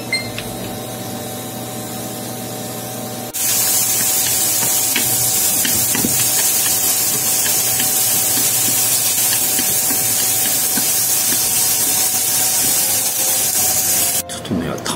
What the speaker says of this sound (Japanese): この玉ねぎをフライパンで炒めます。